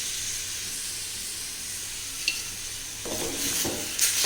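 Raw banana upma curry stirred in a hot pan: a steady sizzle, then a few close scraping strokes of the spoon against the pan near the end.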